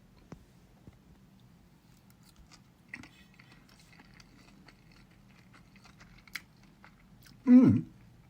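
Someone eats salad and pasta at a taste test, chewing quietly with a few soft bites and one louder crunchy burst near the end, in a quiet room with no talk.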